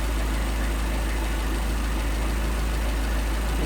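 A Mercedes 190SL with Solex carburetors idles steadily, a low, continuous engine rumble that is loud and close with no talk over it.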